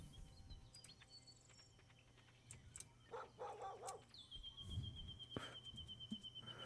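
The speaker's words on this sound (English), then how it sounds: "I hear a dog barking in the background." A dog barks faintly in the distance, a few short yaps set against quiet background hum and insect-like chirps.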